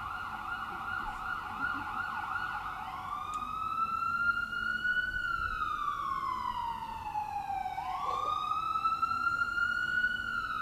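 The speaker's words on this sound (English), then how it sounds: "I'm going to wait 1 minute for this ambulance to go by." An ambulance siren wails in long rising and falling sweeps, passing by outdoors in Boston during a ribbon-cutting ceremony, with faint traffic rumble underneath and no talking.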